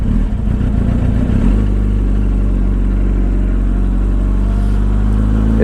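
A Yamaha R1 AMA pro racing motorcycle engine runs close and loud, settling from a brief rough burst into a steady, throbbing idle.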